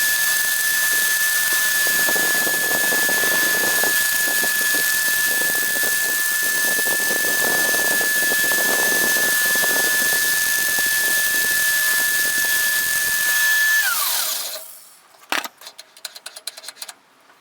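A bent metal disc for a Mad Max style trike is machined in a workshop, giving a loud continuous grinding whine with a steady high tone for about fourteen seconds, then winding down into scattered clanks and quieter knocks.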